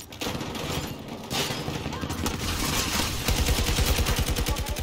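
Automatic weapon fire in the shooter game Battlefield 2042: sporadic shots give way to a steady rapid burst of gunfire in the last seconds, loud and close, with a voice talking over it.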